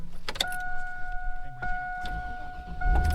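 A pickup truck's engine turning over and catching, with a short whirring crank and clicks followed by a steady idle hum and a rising rumble at the end.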